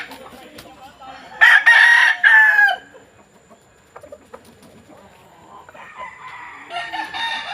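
A Boston Roundhead rooster in a small backyard crows once, loud and close, in a drawn-out call of about a second and a half, followed by quieter clucking and faint background noise.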